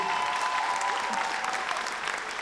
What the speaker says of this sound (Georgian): ტრადიციულად ერთი დამანგრეველი აპლოდისმენტები ახალგაზრდებს.